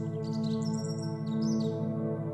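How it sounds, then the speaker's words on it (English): A stonechat family gives gentle high chirps in a meadow, two short bursts over a steady low buzzing drone. "The sound of the Stonechat family's gentle chirps mixes with a soft buzz of insects"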